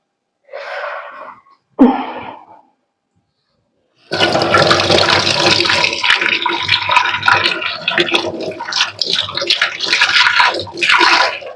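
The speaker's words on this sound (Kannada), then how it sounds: "ಸಪೋಟ ಬಂದಿದೆ ತೊಳ್ಕೊಳ್ತೀನಿ ಈಗ ಇದನ್ನ" Sapota fruit being washed under running water, a steady splashing stream lasting several seconds after brief rustling and handling noises, close and fairly loud.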